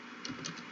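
A short burst of typing on a computer keyboard, a few quick close clicks over a steady hiss, lasting under a second.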